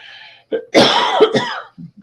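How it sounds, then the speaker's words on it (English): A rough, harsh cough bursts out, followed by a throaty rasping fit and a couple of small trailing coughs, close and loud. "it's like this cough is never ending"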